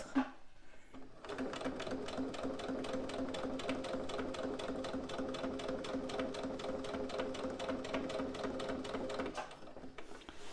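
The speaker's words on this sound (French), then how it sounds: "De retour devant la machine, hop, je tends bien mes tissus pour me positionner, tac, pour faire ma surpiqûre." A sewing machine topstitches fabric at a 3 mm stitch length in a fast, steady rapid clatter that runs for several seconds before stopping, close and alone.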